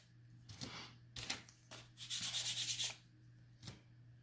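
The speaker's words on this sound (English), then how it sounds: "I'm just gonna sand these while we're waiting." Hand sanding of small craft pieces for an Easter fence, several short scratchy rubbing strokes followed by a longer, louder stretch of rapid back-and-forth sanding, close and quiet overall.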